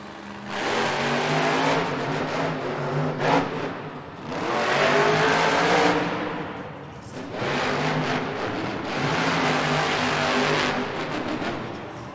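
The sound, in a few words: Gravedigger monster truck engine revving, Monster Jam race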